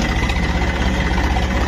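An empty tractor stuck in the field idles with a steady, throbbing low rumble, close and constant, with no voices over it.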